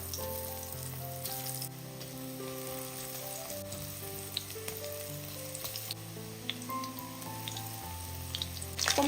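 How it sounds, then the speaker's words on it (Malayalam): Soya chunks sizzle in hot coconut oil, a soft, constant frying hiss with occasional faint pops, heard beneath louder background music. "ഇനി ചൂടായി കിടക്കുന്ന എണ്ണയിലേക്ക് നമ്മൾ മിക്സ് ചെയ്ത് വെച്ചിരിക്കുന്ന സോയ ഇട്ട് കൊടുക്കാം"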